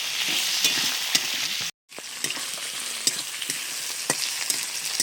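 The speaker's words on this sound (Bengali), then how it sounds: "এখানে দিয়ে দিচ্ছি কয়েকটা তেজপাতা টমেটো একটু নেড়ে চেড়ে নিচ্ছি" Tomatoes and bay leaves are stirred in a pan over fried ginger-garlic paste for a fish curry. A close, continuous sizzle is punctuated by spoon clicks and scrapes, broken once by a brief silent cut.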